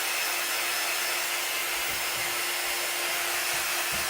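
A hair dryer runs steadily to dry a chalk craft project, a constant loud whooshing blow with a faint hum, heard alone throughout.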